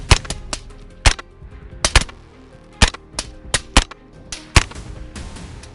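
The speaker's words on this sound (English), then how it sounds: "A deep breath, a firm squeeze on the trigger, gunshots echo through the night." Gunshots ring out at night during a wild boar hunt in deep snow. About a dozen sharp, loud cracks come at uneven intervals, some in quick pairs, each trailing a short echo over a steady low background.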